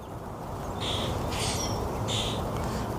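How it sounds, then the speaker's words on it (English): A bird calling close by outdoors, a few sharp repeated calls over steady background hiss. "that bird was real close."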